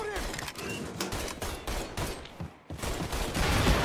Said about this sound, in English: Stop fucking shooting.